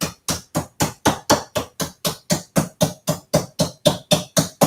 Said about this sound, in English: it's going to take a while to pound it thin